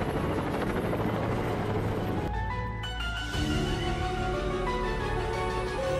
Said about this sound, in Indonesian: Dan akhirnya Elsa yang ditemani Laksamana menaiki helikopter dan menjemput Kovac serta Tik-Tak.